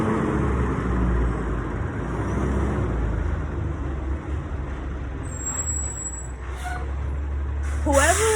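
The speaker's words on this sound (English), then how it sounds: "whoever is driving that garbage truck" A garbage truck rumbles past with a steady low engine drone, a sharp hiss of air brakes near the end, and a voice speaking briefly over it.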